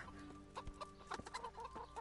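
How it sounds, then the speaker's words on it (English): Chickens clucking around a village in a video game, a scatter of short, mid-level cackles and clucks over a steady low background hum, with no talking. "the hell are these chickens doing here?"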